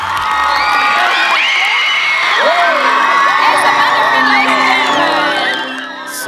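Fans at a film premiere screening cheer, whoop and shout loudly for several seconds, a packed crowd roaring close up before the noise tapers off at the end.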